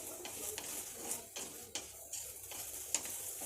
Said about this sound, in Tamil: வெண்டைக்காய் வறுத்துக்கலாம்.